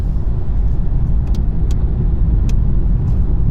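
A 2013 Volkswagen Golf 7 pulls away, its engine a steady low rumble close to the microphone with a few small clicks and taps inside the cabin, no talk.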